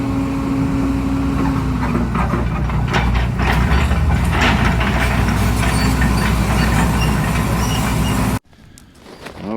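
A 50-ton digging machine scoops earth at an off-grid shelter site, with a loud, steady engine drone, clanking and grinding from the bucket and gears, and a tonal whine early on, before cutting abruptly to quiet rustling near the end.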